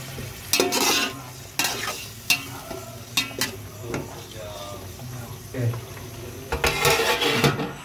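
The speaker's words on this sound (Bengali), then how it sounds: "মাছটা ঢেলে দিয়ে এখন বন্ধুরা আলতোভাবে মাছটা নেড়ে ছেড়ে দেব" A spoon scrapes and knocks against a cooking pan while small fish are gently stirred, with irregular clanks and scrapes over a low sizzle and background noise; a voice talks faintly at times.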